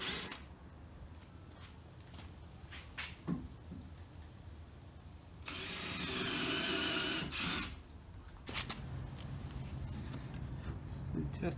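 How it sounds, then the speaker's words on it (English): A drill fitted with a Kreg guide bit boring into a wooden planter box base, one loud whirring burst of a couple of seconds, set between stretches of close talking and workshop handling noises. "using the guide drill from the Kreg bit and some Kreg screws to drill through this piece and attach it to the bottom."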